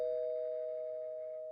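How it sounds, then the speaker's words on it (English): Single electronic doorbell chime at an iron gate, one clear sustained tone that slowly fades, heard alone in a quiet setting. "His hands trembled as he pressed the doorbell,"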